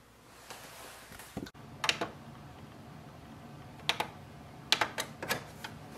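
Buttons on the control panel of a Canon Pixma TR7022 printer are pressed in scattered short clicks, a few singles and then a quick run of taps, close and fairly quiet over a low background hum.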